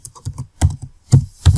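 Quick bursts of typing on a computer keyboard, several close, sharp key clicks grouped in short clusters with brief pauses between, no talk over them.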